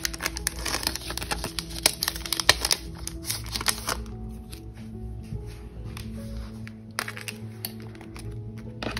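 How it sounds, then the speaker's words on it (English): BTS photocards are handled and slid into a binder: close, crisp plastic-sleeve crinkles and card clicks that come busy at first and then grow sparse and quieter, with no talk. "so we just have two cards to put away"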